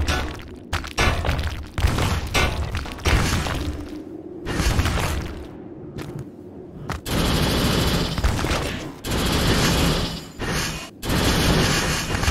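Cannon fire in the video game Windforge comes as repeated heavy blasts and crashing impacts in irregular bursts, loud and close, with short quiet gaps between volleys.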